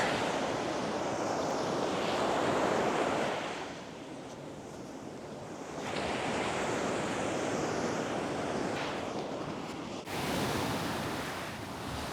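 Broad roaring surf of ocean waves, swelling and receding in long surges with wind rush over the microphone; no voices.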